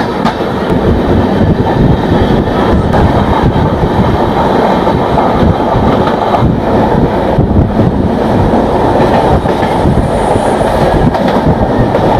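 The Janashatabdi Express runs at speed toward Ratnagiri station, a loud, unbroken roar of wheels and rushing air heard from inside the train for the whole stretch, with faint rhythmic rail clatter beneath.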